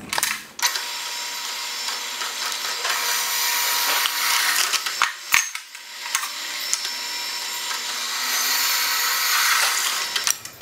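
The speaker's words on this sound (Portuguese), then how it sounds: "Então tá, então vamos furar." Holes are drilled in a metal part for a Ford Ranger flatbed, giving loud, sustained, harsh grinding with brief pauses and clicks between bursts, no talk.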